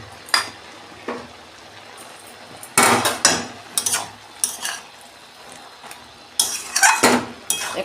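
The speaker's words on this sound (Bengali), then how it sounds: "দেখুন বন্ধুরা, ঢাকনা খুলছি আমি" A lid comes off a pan of cooking spinach, followed by a series of sharp metallic clanks and clatters at uneven intervals, close and fairly loud, with quiet gaps between them.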